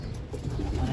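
Pigeons coo in a loft of stock breeding birds, soft low murmuring calls close by over a dull background rumble, brief and continuous.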